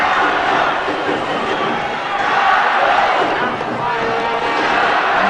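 A crowd of about 5,000 at a women's basketball final between Brazil and China, with Chinese spectators cheering loudly in a steady, dense roar that fills the whole stretch without a break.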